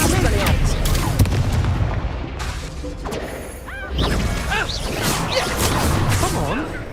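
Spell-casting in Hogwarts Legacy during a wand duel, with whooshing casts, crackling bursts and heavy impact booms piling up in quick succession, while voices call out over the chaotic magical combat.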